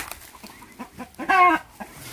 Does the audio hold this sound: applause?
no